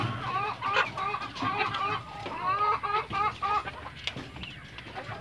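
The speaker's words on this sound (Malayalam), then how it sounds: "ഇവിടെ നിൽക്കുന്ന എല്ലാ കോഴിയും നോക്കിയുള്ളൂ, ഇതെല്ലാം പുതിയ പാച്ച് കോഴികളാണ്." A new batch of farm hens, in hand for about two months, cluck and squawk repeatedly at close range in a flock, with overlapping calls and no talking.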